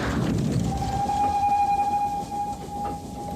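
A train passes with a sustained whistle-like tone over a rumbling rail noise, loud and fairly close throughout.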